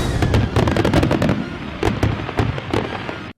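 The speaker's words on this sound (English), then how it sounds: "Most people, when they think of fireworks, think of the sky exploding." Fireworks explode in a dense, loud crackling barrage of rapid pops and bangs that thins into scattered sharp reports, with no voices.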